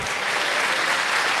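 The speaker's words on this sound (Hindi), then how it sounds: "ताली बजाइए जोरदार" Crowd at a comedy poetry show bursting into loud, dense applause, a brief sustained roar of many hands clapping close and full, with no talk over it.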